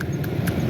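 Donkey hooves clopping on a busy market street in Faisalabad, two or three quick close hoof clacks over a low crowd and traffic bed.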